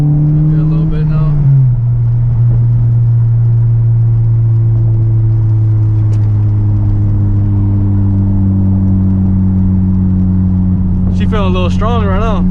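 A car with a K24 engine and an HKS cone filter intake drones steadily from inside the cabin while accelerating, with a deep, sustained engine hum and intake note throughout.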